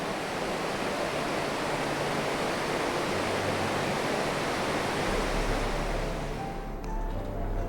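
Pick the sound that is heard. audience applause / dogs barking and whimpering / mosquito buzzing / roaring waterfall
roaring waterfall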